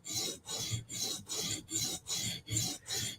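A knife's recurve edge is stroked across a sharpening stone, eight even rasping passes in a steady rhythm, close and crisp with brief pauses between strokes.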